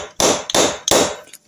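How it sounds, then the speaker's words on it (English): Three sharp hammer blows tapping down a cylinder head onto its studs on a Triumph Trident T160 engine during a rebuild, loud and close, evenly spaced with a faint fourth tap at the end. "I've put the head studs in and then I'm tapping it down"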